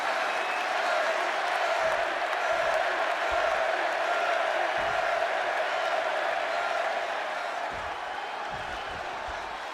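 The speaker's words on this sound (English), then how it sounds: "just listen to this crowd here in Chicago" A large Chicago arena crowd in the WWE 2K26 wrestling game roars in a steady, dense wall of cheering and applause throughout a CM Punk versus Eddie Guerrero showdown, with a few heavier thumps mixed in.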